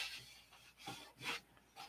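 A piece of balsa wood is sanded by hand in a few quiet, rhythmic rasping strokes, soft and close, each stroke a short scratchy swish.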